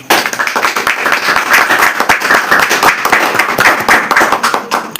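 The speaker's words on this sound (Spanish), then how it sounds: "Entonces demos un aplauso al Señor." A church congregation claps loudly and continuously, dense rapid hand claps from a large group close by, sustained for several seconds.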